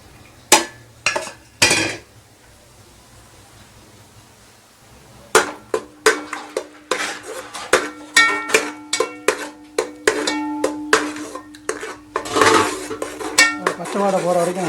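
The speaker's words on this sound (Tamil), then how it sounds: "இப்போ அரைச்சி வச்சுருக்க வெங்காயம், தக்காளி, இஞ்சி, பூண்டு, புதினா, கொத்தமல்லி, பச்சை மிளகா அந்த பேஸ்ட்டை போட்டு வதக்கி விட்ருவோம்." A paste of ground onion, tomato, ginger, garlic, mint, coriander and green chilli is sautéed in oil for chicken biryani, heard as a series of sharp metallic clanks and scrapes of a spoon against the pot, with a soft sizzle between them.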